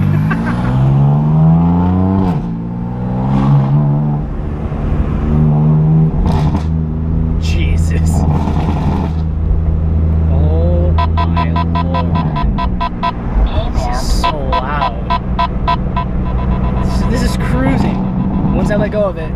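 A BMW F82 M4 with a burble tune revs on the street, its exhaust rising and falling and then crackling with rapid pops and bangs when the throttle is released, close and loud, with someone talking throughout.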